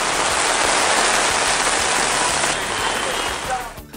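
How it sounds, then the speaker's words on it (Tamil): Heavy rain falls steadily across Melur and its surrounding area during a thunderstorm, a dense, loud hiss of downpour that keeps going for most of the stretch before easing off near the end, with no distinct thunderclap standing out. "மேலூர் மற்றும் சுற்றுவட்டார பகுதிகளில் இடி மின்னலுடன் 1 மணி நேரத்திற்கு மேலாக கனமழை"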